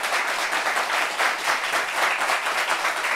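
A live audience applauds steadily throughout, a dense, even wash of many hands clapping with no speech over it.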